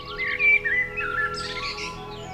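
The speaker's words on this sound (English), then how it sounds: "The bird that sings most clearly in a major key is the common blackbird." A common blackbird sings a clear, melodious phrase of fluting whistles and warbles, close and bright, followed by a denser burst of higher chirping notes.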